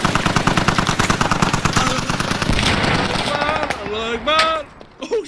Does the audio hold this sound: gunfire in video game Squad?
yes